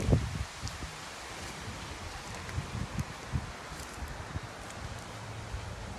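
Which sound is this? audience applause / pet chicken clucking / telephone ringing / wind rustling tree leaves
wind rustling tree leaves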